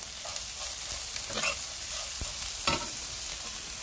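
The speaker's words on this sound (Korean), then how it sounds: "여기다가 마늘하고 마른 고추 말려놓은 거, 청양고추 말려놓은 거 넣고 같이 볶아줍니다" Small anchovies stir-fried with garlic and dried Cheongyang chili peppers in a pan, giving a steady close sizzle with a few scraping stirs of the spatula and no voices.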